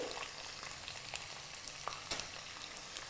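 Small chopped onion pieces fry in oil for a shallot tamarind stew, a soft continuous sizzle with occasional faint crackles and spoon scrapes, fairly quiet and without talk.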